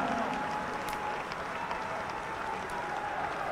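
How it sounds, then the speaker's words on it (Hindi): A standing crowd at a BJP state executive meeting in Jaipur claps loudly, a sustained, even roar of applause throughout. "अपने स्थान पर खड़े होकर जोरदार तालियों की गड़गड़ाहट के साथ अभिनंदन करें।"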